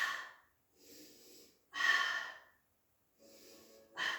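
Slow, deliberate breaths during a yoga class, with audible inhales and exhales in separate bursts separated by near-silent pauses, close and soft.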